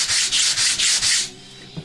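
Five quick, even strokes of sandpaper rub hard against wood on an RC model plane, close and loud, then the scraping stops.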